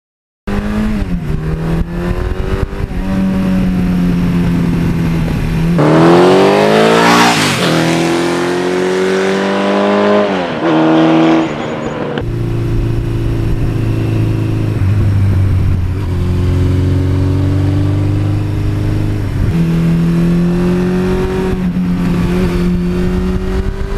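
A 1982 Suzuki GS1100E motorcycle cruises with a steady, loud engine drone, rising sharply as the rider twists the throttle midway, then settling back to a constant hum against wind noise.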